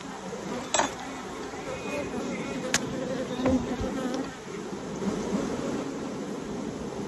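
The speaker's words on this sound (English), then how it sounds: "Working bees." A low, continuous buzzing hum of honey bees at a beehive fills the background, with a couple of faint clinks and some muffled speech now and then.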